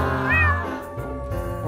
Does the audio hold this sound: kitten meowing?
yes